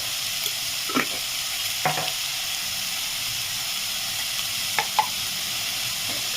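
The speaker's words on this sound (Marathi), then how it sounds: "आता कांदा परत लवकर परतावा म्हणून त्याच्यामध्ये मी टाकून घेते थोडंसं मीठ" Chopped onion sautéing in a pan with a little salt gives a constant hissing sizzle, broken by a few soft spatula scrapes, close and with no voices.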